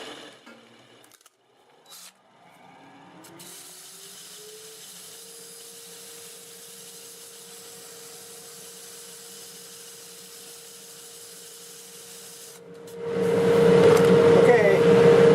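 Wooden bowl spinning on a lathe, turned from a board, with a steady motor hum and a sustained tonal whine, then sandpaper at 80 grit pressed to the wood bringing a loud, broad rasping hiss near the end.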